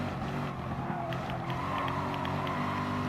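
Race cars from the video game Gran Turismo Sport, including a Jaguar and an Audi, driving with a steady, loud engine drone and tire noise that holds constant throughout.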